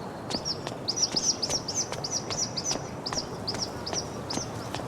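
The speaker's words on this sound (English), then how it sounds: "I wonder if this is the bird that woman is looking for." Birds call in the video game Life Is Strange: True Colors: a quick series of bright, high chirps repeats in an irregular rhythm over faint ambient background, with soft thudding steps underneath.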